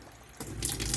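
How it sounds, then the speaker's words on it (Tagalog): Tap water running through a Megafresh water purifier, starting abruptly partway in and continuing as a steady, close splashing flow into the sink. "So buksan ko na yung gripo."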